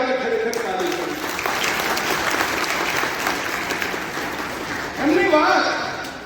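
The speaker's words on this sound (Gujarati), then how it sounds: "એક વાર એમના માટે ખરેખર તાળી કરી." Audience applause at an annual general meeting, steady broad clapping throughout with a voice speaking over it near the start and again toward the end.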